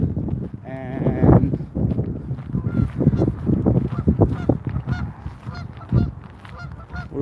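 Geese honk repeatedly in a noisy chorus at a riparian wildlife reserve in Gilbert, Arizona, close and loud, with someone talking over the calls.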